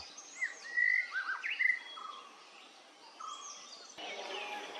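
Clear, high bird whistles and trills, including a white-rumped shama, ring out close by in a quick burst in Ratnagiri district, then softer calls continue over a quiet outdoor background.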